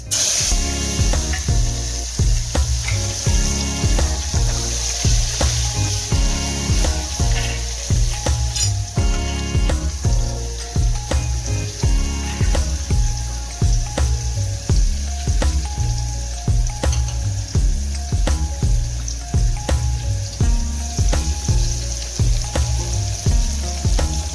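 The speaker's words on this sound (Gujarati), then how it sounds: "હવે આદુ ને ટમેટા બે એટલે લસણ ને ટમેટા બે વઘારી નાખવાના" Garlic and tomatoes sizzle as they are tempered in hot oil for a Gujarati vegetable dish, a steady frying hiss running beneath loud rhythmic background music for the whole stretch.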